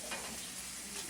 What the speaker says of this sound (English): So now we're going to put our bread on the pan. Get it nice and toasted up.